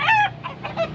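A rooster in a small backyard breeding pen lets out a few quick, close clucks, short raspy calls in a brief burst.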